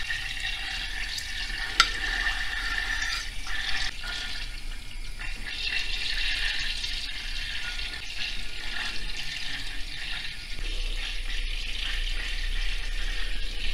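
Water from boiled hingel dumplings drains off steadily through a strainer, a continuous close rushing and splashing that holds at an even level for several seconds without talk.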